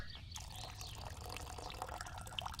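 Water poured into an alchemy vessel in Kingdom Come: Deliverance, a steady liquid splashing and trickling with small drip accents, close and moderately loud throughout.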